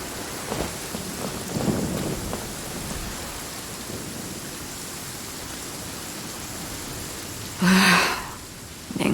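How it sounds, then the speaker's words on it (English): Steady rain hisses across a stormy scene in Genshin Impact, with a loud, close crack of thunder bursting out near the end over the continuous downpour. "Raining. Fetch an umbrella for me,"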